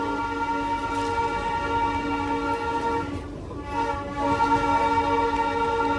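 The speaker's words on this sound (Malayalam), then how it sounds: "എന്താ ട്രെയിൻ പോകുന്നത്." The Darjeeling Himalayan toy train runs on its narrow-gauge tracks between New Jalpaiguri and Darjeeling, passing close to houses and trees. It makes a loud, steady rumble with a sustained tonal drone that dips briefly midway.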